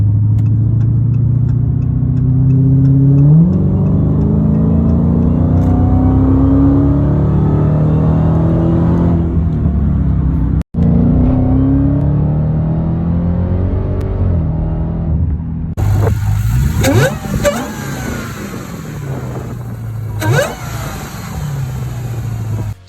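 A Dodge Challenger Hellcat V8 heard from inside the car pulls hard through rising, deep engine sweeps with gear shifts, a loud, steady rumble that eases and then builds again toward the end.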